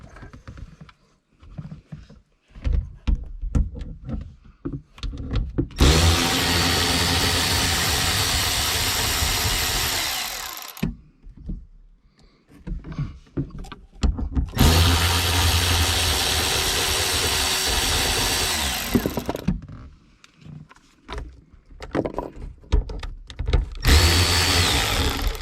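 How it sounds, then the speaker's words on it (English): A Milwaukee power tool fitted with a shallow socket spins 8 mm bolts out of a Dodge Neon SRT4 sunroof motor, sounding as three long, loud, steady whirring bursts separated by quieter clicks and handling. "I'm going to grab my Milwaukee Power and I'm just going to run them right out"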